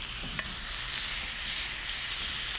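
Boneless stuffed pork chops sizzle loudly and steadily on a grill, a continuous close hiss with no talking.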